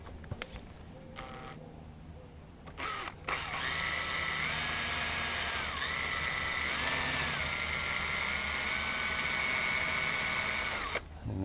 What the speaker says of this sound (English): so we'll carry on drilling that.